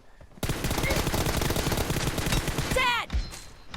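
Rapid automatic gunfire from the mobile shooter game PUBG Mobile played on an iPad 5th generation, a loud dense burst of shots lasting a few seconds, then a brief whooshing effect and a cutoff.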